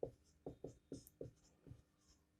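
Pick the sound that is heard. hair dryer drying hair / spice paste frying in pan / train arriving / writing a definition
writing a definition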